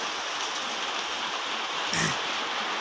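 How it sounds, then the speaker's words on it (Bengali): Heavy rain pouring steadily over cucumber plants in a garden, a dense continuous hiss of water close by with no voices. "এত বৃষ্টি হইতেছে"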